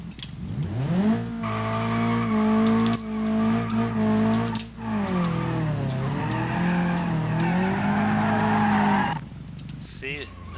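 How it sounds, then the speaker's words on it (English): A rear-wheel-drive car in the BeamNG.drive driving game oversteers and spins out, its engine droning and bending in pitch under a long tire squeal, close and loud, with a voice talking over it. "we're prone to oversteer, so that's why we just spun out"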